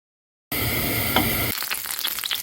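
Onion frying in butter in a pan starts abruptly after a moment of silence as a loud, close, continuous hiss that turns grainier and more crackly toward the end.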